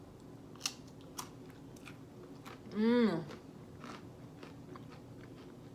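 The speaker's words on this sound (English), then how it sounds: "Can you hear the crunch? It is super crispy crunchy" A homemade low-carb vegan three-seed cracker is bitten and chewed up close, giving a few sharp, crisp crunches, with a brief appreciative hum from a voice.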